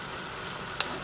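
Large prawns (gambas) frying in a pan with garlic give a steady, dense sizzle and crackle, with one brief sharper spit near the end.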